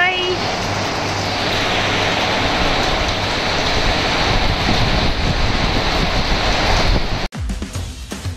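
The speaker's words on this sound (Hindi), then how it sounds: "देखो कितना तेज बारिश हो रही है" Heavy rain pours in a loud, steady, dense hiss that fills the whole stretch, then cuts off abruptly near the end, leaving quieter background noise.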